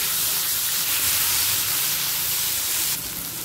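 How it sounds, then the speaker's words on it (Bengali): Chopped onion, tomato and green chilli fry on a high gas flame. A loud, steady, close hiss runs throughout and eases slightly just before the end. "পেঁয়াজ টমেটো কাঁচা লঙ্কা 1 মিনিট ভাজা হয়ে গেছে"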